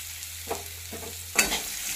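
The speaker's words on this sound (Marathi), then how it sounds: "कारलं चांगलं हलवून घ्यायचं, त्याला सगळा आपला जो मसाला आहे तो लागला पाहिजे।" Sliced bitter gourd stir-fried with spices in a pan: soft scraping stirs and a quiet sizzle, with a sharper clatter of the spoon near the end, close and fairly faint.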